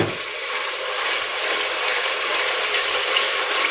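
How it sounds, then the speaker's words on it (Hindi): Browned masala in a hot pan sizzles and hisses loudly and steadily as a little water is added, with no talking. "अब इसमें 2-3 कतरे पानी की और ऐड करेंगे"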